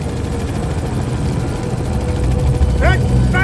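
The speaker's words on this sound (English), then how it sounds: "The chopper will do a circle sweep of the shadows." Helicopter in the video game Manhunt 2 chops steadily overhead, a loud continuous rotor thrum with a droning engine, while a voice speaks over it near the end.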